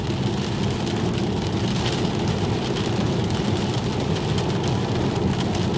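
Sleet pelts a Tesla Model 3 on Toyo Proxes Sport A/S tires as it drives at freezing temperature, a dense, steady patter and hiss blended with constant road and cabin rumble.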